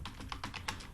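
Quick keystrokes on a computer keyboard while typing a code comment, about half a dozen soft, close clicks in an uneven rhythm, faint and alone.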